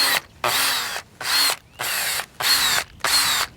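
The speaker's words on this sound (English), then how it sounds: "What I'm going to do first is drill some holes a few inches apart throughout these logs." A power drill bores holes into logs in bursts: five loud high-pitched whirring runs of about half a second each, separated by short pauses, close up and with no talking.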